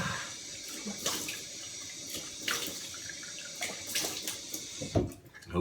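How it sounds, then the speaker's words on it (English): Cold water runs steadily from a tap into a sink, a continuous splashing hiss with brief louder gushes, heard close up and alone. "Cold water."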